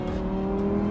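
Steady, loud engine drone from a 2022 Lamborghini Huracán STO under way, a sustained tone holding constant through the moment with no talk over it.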